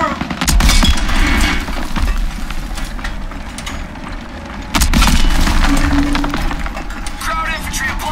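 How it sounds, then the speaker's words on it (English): Small arms gunfire in a Call of Duty WWII battle, with dense, continuous shots and booming impacts layered over a loud war soundscape, while a voice shouts over the fighting. "Small arms fire! They're assaulting our guys!"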